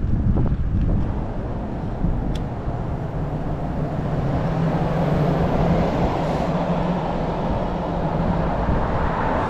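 A breeze buffets an outdoor microphone with a continuous low rumble and rushing noise, fairly loud and steady after a few brief knocks at the start, with no speech.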